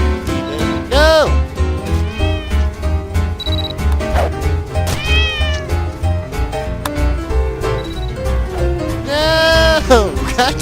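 A house cat gives several loud, drawn-out meows with rising and falling pitch, close to the microphone, overlapping a person talking and game music.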